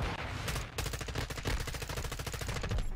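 Rapid automatic gunfire in the video game Modern Warfare 2, a dense, loud stream of closely spaced shots that runs almost the whole time with only a brief gap early on.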